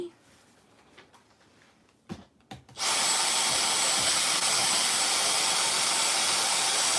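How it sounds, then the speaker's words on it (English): A Dyson vacuum cleaner starts after a few quiet knocks and a brief voice, then runs loud and steady with a bright, high-pitched whine and airy roar that holds to the end. "Melissa, let's vacuum that up."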